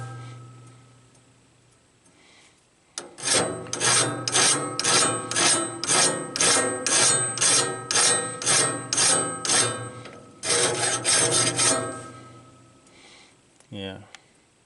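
A band saw blade is sharpened by hand with a file, a long run of evenly spaced rasping strokes, close and fairly loud, followed by a short pause and another burst of strokes.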